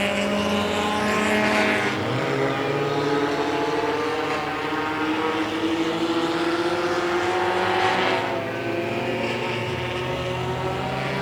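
Race cars roar past together during a short-track heat race on a white-flag lap, engines droning loud and steady with rising and falling pitch as the pack sweeps by, with no talk over it.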